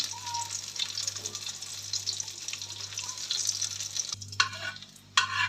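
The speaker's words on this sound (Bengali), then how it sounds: "ফোড়ন হচ্ছে রসুন ফোড়ন" Garlic tempering sizzles in hot oil for palak paneer: a close, steady crackling fry with stirring sounds over a low background hum, briefly dropping away before a final clatter.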